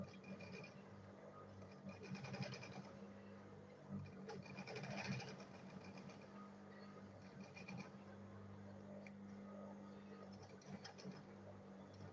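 A sewing machine runs steadily, stitching foam-lined fabric for a homemade lunch bag, with a continuous mechanical hum and fine rapid needle rattle throughout and a few slight changes in pace.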